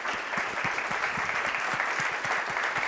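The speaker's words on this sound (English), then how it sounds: "Big round of applause for these incredible panelists." An audience at the Devcon VI conference in Bogotá applauds panelists at the Tropical Sunset stage, a steady wash of clapping from a fairly large crowd, heard alone.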